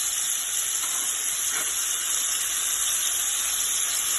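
Shark fillet searing in butter in a hot pan, a loud, close, unbroken hissing sizzle that holds steady throughout with no voices.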